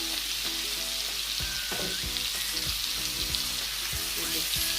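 Chili powder stirred into a sizzling garlic butter shrimp sauce: continuous close frying hiss with regular spoon knocks and scrapes on the pan, one brief squeaky scrape early on.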